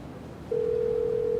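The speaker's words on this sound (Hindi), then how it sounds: "फोन उठाओ।" A telephone tone in a drama scene, a steady single electronic tone starting after a brief quiet moment and holding evenly at moderate loudness, with no talking over it.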